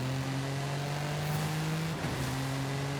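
A steady engine drone from an all-wheel-drive converted Toyota Camry in Forza Horizon 5 hums throughout, with a raspy tone and a slight dip in pitch near the end.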